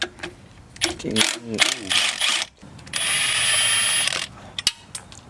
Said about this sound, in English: remove the bolt out of the motor mount right here